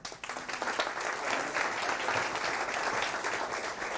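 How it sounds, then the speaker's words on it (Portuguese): An audience applauds steadily at an opening talk, a dense, sustained clapping throughout with no voices over it. "vamos abrir com um aplauso"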